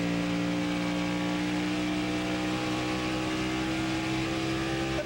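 NASCAR race cars roaring around the track at the 2000 Coca-Cola 600, a loud, continuous engine drone with steady harmonic whine and no break throughout.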